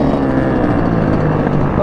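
A big sport motorcycle, maybe a 636 or 600, rides into a parking lot with a steady, loud engine drone that holds throughout without a break.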